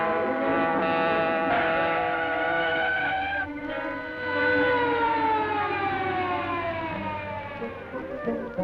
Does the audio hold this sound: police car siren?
yes